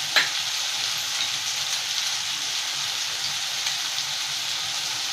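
Ground spices, cumin and coriander powder, Kashmiri chili and onion-garlic masala, hitting hot oil for a spicy Indian chicken gravy, giving a steady, even sizzle with a faint clink near the start.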